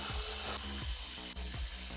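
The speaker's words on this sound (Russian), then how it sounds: "Переворачиваем робот-пылесос и вкручиваем основные винты, держащие корпус." Screws being driven into the plastic housing of an upturned Xiaomi robot vacuum, heard as close, repeated ratcheting turns in a steady rhythm with no talk.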